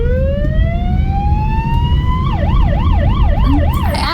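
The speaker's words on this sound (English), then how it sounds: "if you're listening to an ambulance" An ambulance siren in Poland rises in a long wail, then switches to a rapid warbling yelp, loud and close over continuous traffic noise.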